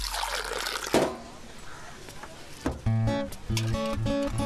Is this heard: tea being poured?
yes